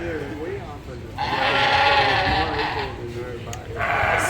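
Sheep bleat repeatedly at a 4-H sheep show where market ram lambs are auctioned, the loud wavering calls rising over a crowded barn with a person talking through much of it.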